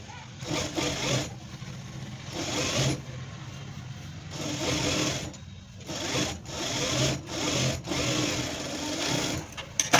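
Sewing machine running while stitching a blouse, a steady close whirring hum that stops and restarts in several bursts, with brief pauses between runs.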